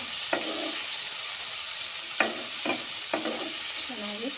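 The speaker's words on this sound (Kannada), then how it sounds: "ಚೆನ್ನಾಗಿ ಫ್ರೈ ಆಗುತ್ತೆ." Beans, potatoes and chopped tomato sizzle steadily in a pan while a spoon scrapes and stirs through them a few times. The frying hiss stays constant and close throughout.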